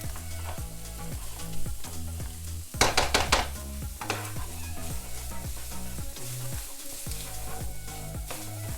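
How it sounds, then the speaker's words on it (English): Hot pork sausage browning in a frying pan, with a steady close sizzle, a burst of louder crackling partway through, and scattered stirring scrapes against the pan. "We'll just let this brown. And I'm trying a hot pork sausage this time."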